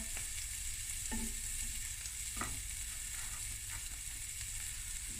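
Onion frying in butter in a pan gives a steady, quiet sizzle, with a few faint spoon stirs and clicks against the pan, close by and without talk.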